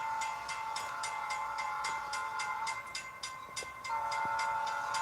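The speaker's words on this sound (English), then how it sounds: "Kevin, is this you with the Rio Grande piggyback train?" A Rio Grande piggyback train rolls along in a Roblox game, with a steady mechanical hum and a regular rhythmic clicking of wheels over rail joints, fairly faint and heard alone.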